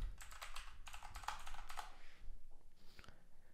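Quick, close bursts of typing on a computer keyboard as a root password is entered, with a steady clatter of keystrokes that thins out toward the end.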